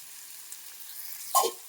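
Fish pieces frying in oil for a fish curry, a faint steady sizzle with one brief louder hiss and splutter near the end.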